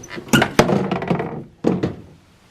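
Clunks and scraping thuds come as the charcoal fuel canister of an NA Mazda MX5 Miata is pulled from its mount: a few sharp knocks followed by rustling handling noise, close up.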